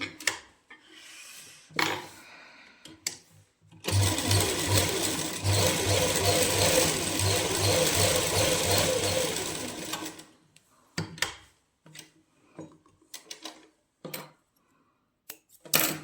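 Sewing machine joining salwar pieces with lining: a steady, continuous mechanical stitching run of about six seconds, close and loud, framed by quieter fabric handling and scattered clicks before and after.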